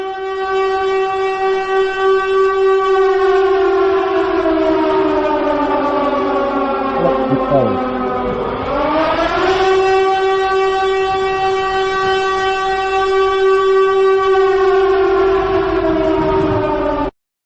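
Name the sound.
siren sound effect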